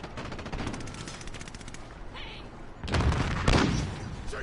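Rapid automatic gunfire in Call of Duty rattles in a fast stream, then heavier bursts and louder booming shots crowd in near the end, close and loud with no voices over it.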